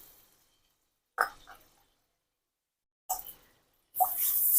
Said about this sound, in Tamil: அந்த எண்ணெயிலேயே நெய்யிலேயே ஒரு ரெண்டு கப் அளவு தண்ணி ஊற்றிக்கலாம்